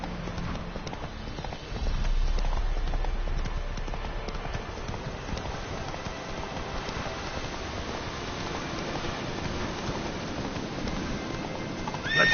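Hooves of the horse Roach galloping in The Witcher 3, a steady rapid clip-clop with a heavier thud early on, continuous and fairly loud over a faint rainy ambience.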